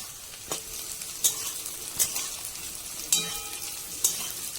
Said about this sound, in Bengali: এবার এগুলো সবসময় একটু হালকা ভেজে ভেজে নেব